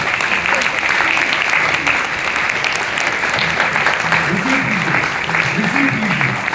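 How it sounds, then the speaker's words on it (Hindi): A standing audience at a success-story seminar applauds steadily and loudly, dense continuous clapping filling the room, with a voice rising over it toward the end. "एक बार खड़े होकर तालियां बजा सकते हैं इनके लिए"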